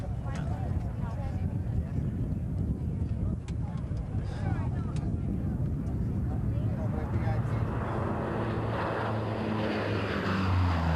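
The Fat Albert C-130 turboprop makes a low flat pass at a 1991 military air show at Quonset ANGB, its steady engine rumble building into a droning propeller hum, with a voice talking over it.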